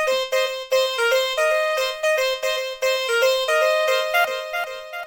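A bright synth plays a quick run of plucked notes, each one trailed by repeating echoes, loud and continuous with no voices.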